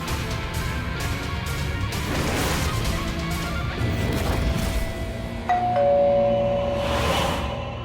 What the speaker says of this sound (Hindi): काहे बार बार घंटी बजा रहे हैं?